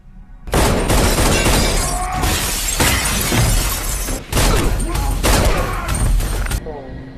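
Film action scene in a glass room: a loud, dense barrage of gunfire and shattering, crashing glass that goes on for about six seconds amid the soundtrack, then cuts off abruptly.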